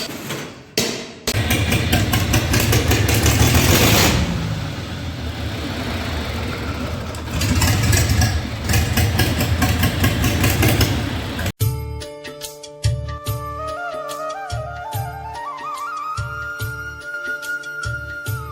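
A repaired water pump engine is cranked and started after new rings were fitted. Loud hammering mechanical clatter comes first, then a steady rhythmic idle with a rising tone as it keeps running close by.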